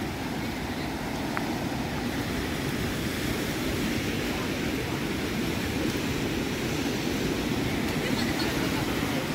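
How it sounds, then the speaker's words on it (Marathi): River water rushing steadily at Apti Dam near Badlapur, a broad continuous low roar that holds at an even level throughout, with no other sounds standing out above it. "नदी बघा यार, नदी बघा, याला आपटी डॅम बोलतात"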